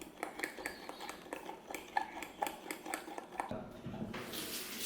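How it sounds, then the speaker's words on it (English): Pudding being stirred in a pot, a utensil scraping and clinking against the sides in a steady repeated rhythm, close and moderately loud, with a brighter rattle near the end. "we can finally mix up the pudding. Stirring until it gets really nice and thick."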